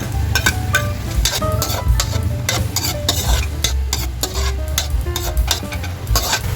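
Tomatoes sauté with fish sauce and flaked fish in a pan, a constant close sizzle under repeated scraping, clinking strokes of a utensil stirring, with no talking.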